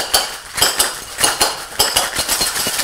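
Cocktail shakers packed with ice rattle hard and rhythmically, with repeated loud clattering bursts of ice against metal, close up and without talk.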